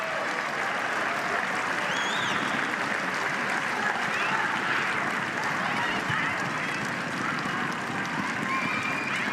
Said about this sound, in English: you can hear from the crowd just how many Eagles supporters are watching on today